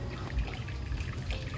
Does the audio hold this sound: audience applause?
no